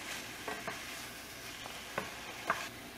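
Already-cooked squirrel meat sears quietly in a pan, a soft continuous sizzle broken by a few light scraping stirs and taps, close and alone with no voices.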